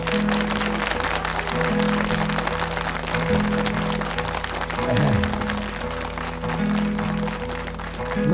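Sustained, dense applause from a live concert audience at a 1978 RSI broadcast of a performance, steady and close for the whole stretch, with faint tonal music humming underneath.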